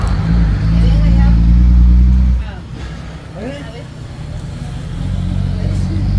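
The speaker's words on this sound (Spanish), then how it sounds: "Unos camiones, mira," Trucks rumbling past on a road, a heavy low engine drone loud for the first couple of seconds then fading, with people talking nearby over the traffic.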